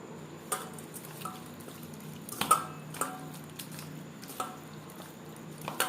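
Chicken pieces are worked by hand with turmeric, salt and pepper for satay, giving soft wet squishes and occasional bowl clinks at close range, with no talking.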